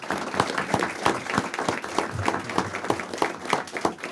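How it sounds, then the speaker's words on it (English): An audience at a school board meeting applauds with dense, steady clapping throughout, moderately loud and continuous. "let's give her a round of applause."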